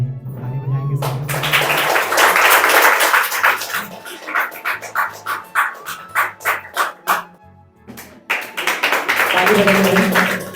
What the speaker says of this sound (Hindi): ताली ताली बजाएंगे सब।